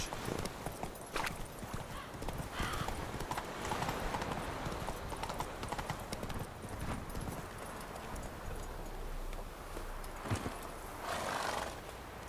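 Roach the horse in The Witcher 3 clip-clops along with steady, close hoofbeats, broken by neighs and snorts, with faint game sounds behind.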